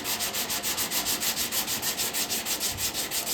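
A long sanding block rubs body filler on a car panel in steady, rhythmic back-and-forth strokes, close and alone with no voices.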